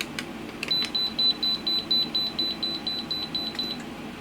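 A Fluke 107 multimeter beeps at high voltage, a high-pitched electronic tone repeating rapidly and evenly, over a dozen short tones in a row, with a few clicks at the start.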